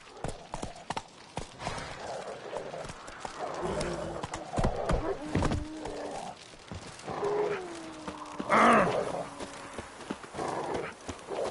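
A horse galloping in The Witcher 3 video game: rhythmic clip-clop hoofbeats with a sharp neigh partway through, mixed with game character voices talking over the ride.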